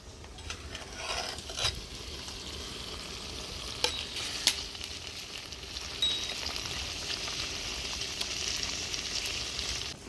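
Fish, bheda, cooks in a thin curry broth with young radish and eggplant under a lid, giving a steady soft sizzle and bubbling hiss with occasional faint clinks, no voices.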